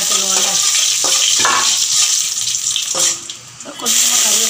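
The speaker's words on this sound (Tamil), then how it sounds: "பட்டை மிளகாய் போட்டு நம்ம தாளிச்சுக்கலாம்" Dried red chillies sizzle in hot oil for tempering, a loud, close, steady frying hiss with a few stirring clinks and a short dip near the end, with no talk over it.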